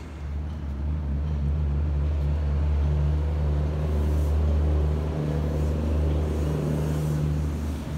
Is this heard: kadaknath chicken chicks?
no